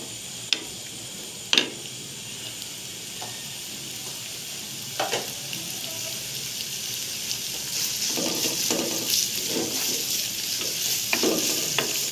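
Chopped onion frying lightly in a pan for chicken wonton filling, a gentle continuous sizzle broken by a few sharp utensil knocks and stirring scrapes, growing slightly louder toward the end.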